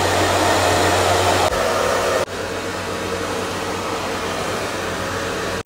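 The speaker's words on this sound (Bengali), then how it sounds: "ড্রায়ার দিয়ে একটু হিট করব" A hair dryer blows hot air onto straight, freshly step-cut hair during styling. The whir is loud and steady, drops to a lower setting partway through and keeps running alone with no voices.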